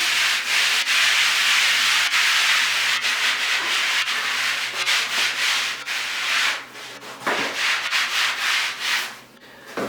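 Wax is rubbed onto a surface in quick circular strokes, producing a loud, continuous close-up scrubbing and rubbing with rhythmic swells throughout.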